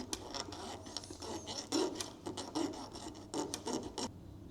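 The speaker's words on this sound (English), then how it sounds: "I can move the bead in order to file it" A wooden bead rubbed back and forth against a file on a tabletop gives a series of close, rasping strokes in an uneven rhythm, with no talking.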